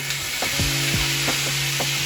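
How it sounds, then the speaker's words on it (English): Marinated meat sizzles steadily in a hot oiled pan for a bánh mì sandwich, a close, continuous frying hiss with faint crackles and a few soft knocks, with no talking. "When you hear that sizzle, you know your pan is at the right temperature."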